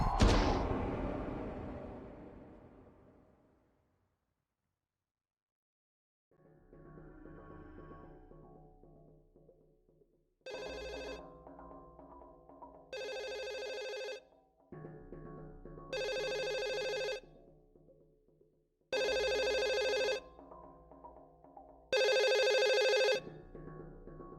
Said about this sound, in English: A phone rings and Yukari answers.